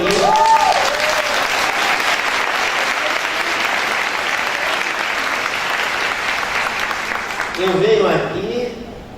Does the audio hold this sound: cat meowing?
no